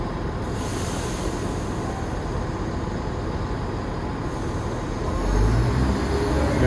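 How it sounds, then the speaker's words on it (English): A train arrives at a London railway station amid a steady, broad rumble of rail noise that swells louder and deeper near the end, with no voices. "The train is coming right now."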